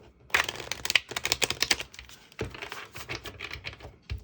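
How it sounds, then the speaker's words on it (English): Tarot cards being shuffled by hand, a dense run of quick papery riffles and slaps at close range, with a short pause midway before the shuffling resumes. "So let's give this one more shuffle."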